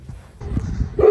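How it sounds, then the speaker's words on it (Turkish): A dog beside a walking path lets out a single short bark near the end, rising over low rustling and footstep noise outdoors. "o köpek var"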